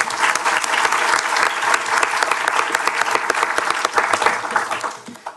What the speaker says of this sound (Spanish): Le damos un aplauso a María Isabel Mansur